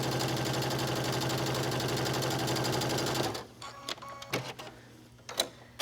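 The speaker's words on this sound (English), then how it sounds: "I'm just stitching these both in place at the exact same lengths of fabric." A sewing machine runs steadily, stitching lengths of fabric for a one-shoulder tank top, with a fast, even mechanical chatter for about three seconds before stopping, followed by quieter handling clicks.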